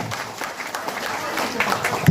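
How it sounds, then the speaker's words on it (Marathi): Short burst of clapping from guests cheering a team during a party game at a children's birthday celebration, brisk and close, mixed with voices talking over it. "जरा जोरदार टाळ्या त्या टीमसाठी."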